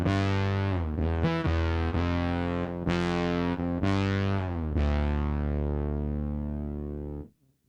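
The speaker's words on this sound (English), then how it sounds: "we swap out the chorus for a pitch detune, dual stereo detune" A thick, buzzy '80s-style synth bass from a Fractal modeler, with dual stereo pitch detune and a low cut at 186 Hz, plays sustained notes with a wide, detuned shimmer, the last note holding long before cutting off.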